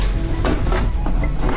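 Steady scraping and light clinking of a utensil stirring choux pastry dough with margarine in a pot, close up and continuous, with occasional small knocks against the metal.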